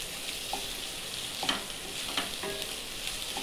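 Onion, capsicum and paneer frying together in a pan, giving a steady close sizzle with a few faint stirring scrapes and no voices.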